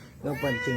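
A pet cat gives a short, close meow rising and falling in two quick pulses, clear and moderately loud.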